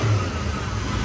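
A carbureted truck engine with a Holley or Edelbrock carburetor revs up off idle, a close, steady low rumble with a slight rise in pitch and no talk over it.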